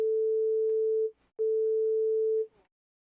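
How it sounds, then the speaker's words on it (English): A pure, steady 440 hertz sine tone from a keyboard sounds twice, each about a second long, separated by a brief gap with faint handling noise. "here's the 440 hertz tone off of the keyboard with a sine wave"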